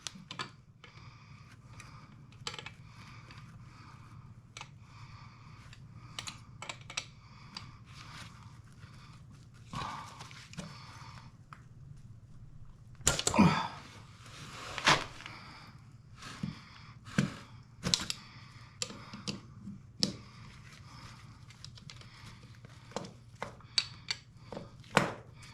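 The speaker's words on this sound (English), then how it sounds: "I'm gonna use wrenches to remove that nozzle and replace it" Wrenches work loose the nozzle of a home oil burner, giving sparse, close metallic clicks and clanks, with a sharper burst of knocks partway through and quiet gaps between.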